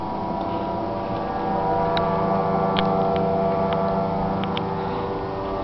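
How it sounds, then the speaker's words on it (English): Ultralight aircraft with a twin-carb Rotax 503 engine and three-bladed wooden prop drones steadily overhead, a continuous buzzing hum with no break, moderately loud and alone. "Here comes that ultralight back again."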